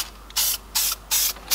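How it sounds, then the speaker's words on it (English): An aerosol spray can puts a coat of paint onto car brakes in three short, close hissing bursts with brief pauses between them. "I'm going to spray another coat on"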